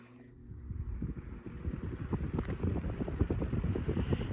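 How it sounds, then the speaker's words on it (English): A Lasko pedestal fan with a 16-inch body and a non-original 18-inch blade runs at speed, giving a steady, fairly faint airy rush over a low fluttering rumble, with no talking. "Let's go ahead and run it."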